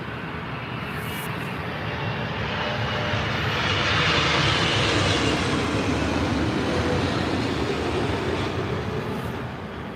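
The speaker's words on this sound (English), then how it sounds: "It's United 777 from San Francisco." A United Boeing 777 airliner from San Francisco coming in to land at London Heathrow: a steady, broad jet engine roar outdoors that swells slightly toward the middle and then eases, with no talk.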